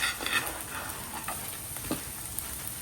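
Small onions sizzling in hot oil for mutton biryani, a continuous bright crackling hiss with a few soft stirring knocks, no talk.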